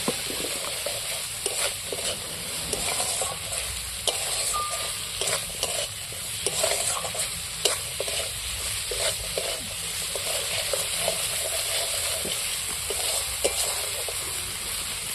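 Peas and masala sautéed in a wok sizzle continuously up close, with frequent rhythmic scrapes and taps of a spatula stirring throughout.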